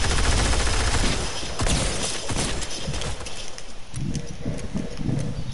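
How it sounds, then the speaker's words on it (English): Rapid bursts of fireworks-like gunfire crackle outdoors during a Fortnite match, a loud dense fusillade with sharp repeated pops and a brief lull before it resumes. "Fireworks going off outside."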